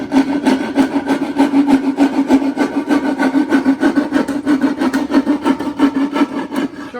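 A hand saw cutting a wooden board in steady, rapid back-and-forth strokes, loud and close, with a rasping, even rhythm and no talking.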